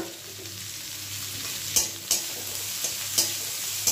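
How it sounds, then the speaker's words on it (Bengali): Thin-sliced capsicum is lightly fried for chilli chicken, a steady close sizzle broken by several sharp scrapes and clanks of a spatula stirring in the pan. "এটাকে আমি হালকা ফ্রাই করব।"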